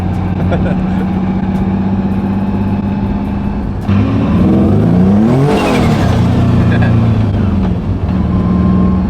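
A car cruises along a damp road in light drizzle, its engine droning steadily with a surge and pass of another vehicle midway, close and loud, with a voice talking over it.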